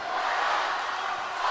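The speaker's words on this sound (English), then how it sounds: "The Woodmont crowd, which had been quiet, is now back up and highly active." The Woodmont home crowd at a basketball state championship game cheers in a loud, continuous roar that fills the gym without pause.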